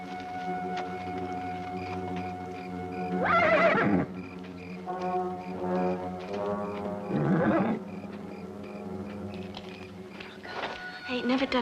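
Horse neighing in a western frontier setting, two loud whinnies a few seconds apart with a third beginning at the end, heard over steady background music and other sounds.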